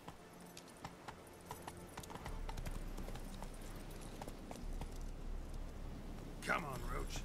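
A horse's hooves beat in a brisk rhythm in the video game The Witcher 3: Wild Hunt, Heart of Stone expansion, starting sparse and settling into a steady galloping pulse, moderately loud, with brief talk over it.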